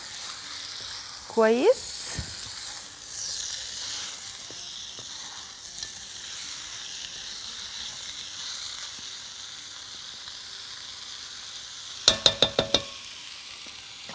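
Onions sizzle in a pan while being stirred, a soft continuous fry with a brief clatter early on and a quick burst of sharp utensil knocks near the end; a voice speaks briefly.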